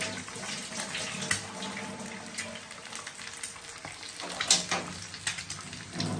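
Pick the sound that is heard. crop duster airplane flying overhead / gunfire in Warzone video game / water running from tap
water running from tap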